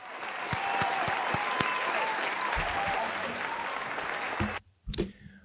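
Steady applause from an audience fills the room at an even level for several seconds, then cuts off abruptly before a couple of brief low thumps near the end.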